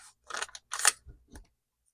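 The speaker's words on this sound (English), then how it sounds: "Get your scissors." Scissors snip through folded freezer paper in a few close, crisp cuts, then fall quiet.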